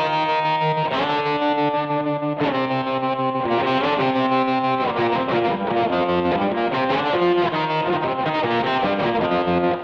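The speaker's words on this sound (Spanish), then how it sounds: "vamos a ocupar una reverberación tipo spring para darle profundidad al riff" Electric guitar riff played through a Boss ME-80 multi-effects unit with a pronounced spring reverb, on a Vox AC30 emulation; loud, continuous distorted chords ringing out with no talking.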